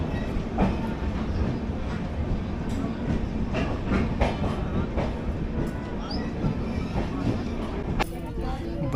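Purnagiri Janshatabdi Express running on rails near Bareilly, a steady close rumble of wheels with faint clatter throughout and a brief squeal near the end, voices murmuring underneath.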